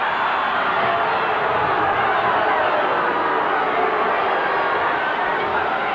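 A large stadium crowd at a 1990 rugby league match between the Canberra Raiders and Cronulla Sharks, booing in a loud, steady roar that holds without letup for the whole stretch.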